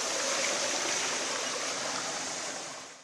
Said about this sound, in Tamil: தூத்துக்குடி ராஜீவ்நகர் பகுதியில் மழைநீர் தேங்கியதோடு வீடுகளுக்கு உள்ளேயும் புகுந்தது